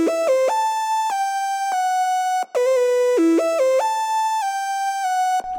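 A Serum synth lead in FL Studio steps cleanly from note to note with no slide, bright buzzy tones in a repeating melodic phrase with a brief gap midway, played alone.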